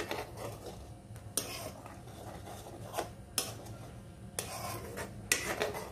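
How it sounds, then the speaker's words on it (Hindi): Cream being stirred in a metal pan while cooking down into butter and ghee, with a spoon scraping and rubbing softly, broken by several sharp clinks against the pan at irregular intervals. "इसे थोड़ी थोड़ी देर से चलाना पड़ता है, नहीं चलाने से क्या होगा, ये नीचे से जलने लगेगी।"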